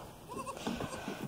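A goat bleats among farm goats and their kids, giving a few short wavering calls close by against a quiet outdoor background.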